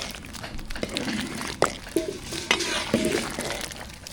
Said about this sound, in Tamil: புளி தண்ணி சேர்த்தாச்சு சாம்பாரில் கடைசி நல்லா கலந்து விட்டுக்கலாம்